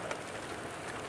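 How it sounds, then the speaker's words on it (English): Steady, even hiss of rain falling in Kentucky at the end of March, fairly faint and continuous, with no voices. "And it is raining."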